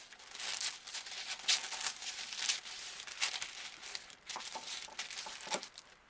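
Scissors snipping through fabric while cutting out pants for a third-scale ball-jointed doll, a run of soft crinkly cuts and paper-like rustles, close and quiet with no talking.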